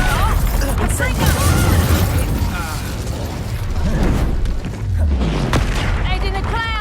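A Confringo blast spell in the Hogwarts Legacy video game sets off booming explosions and pops amid combat clatter, with voices talking over the fight.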